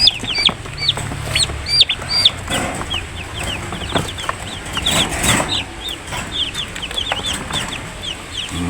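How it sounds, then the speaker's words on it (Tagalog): Rhode Island chickens cluck and chirp in a busy flock, with repeated short calls from several birds, near and fairly loud, over light outdoor background noise. "Benta ka ng manok na Rhode Island."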